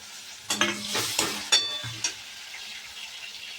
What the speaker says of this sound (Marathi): टमाटर चांगलं तळून घेऊ